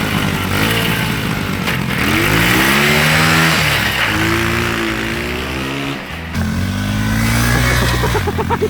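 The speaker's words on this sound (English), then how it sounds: "this is your own pit bike" A pit bike engine revs up and down repeatedly, close and loud, its pitch climbing and falling in several strong sweeps with a brief dip near the end before revving again.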